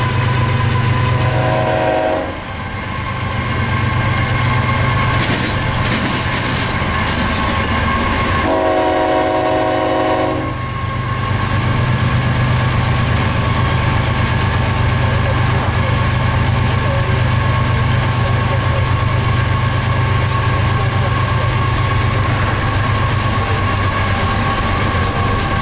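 A coal train's locomotive 902 rumbles steadily past at close range, with a continuous low engine drone and wheel noise throughout and two horn blasts, one near the start and another around the ten-second mark.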